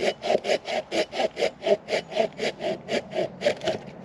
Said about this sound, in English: Obviously I'm cutting through some hardwood here, you know, and it's going through that quite well.